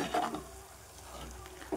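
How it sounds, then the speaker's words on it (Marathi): Vegetables fry in a pan over a medium flame with a soft, steady sizzle, broken now and then by brief stirring scrapes of a utensil against the pan. "आपण फ्राय करून घेणार"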